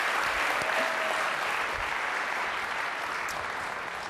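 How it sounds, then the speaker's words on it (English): Sustained applause from a conference audience at a biohacking event, steady broadband clapping filling the room from start to finish with no talk over it. "Give yourselves a round of applause."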